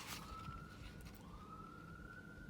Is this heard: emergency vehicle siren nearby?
yes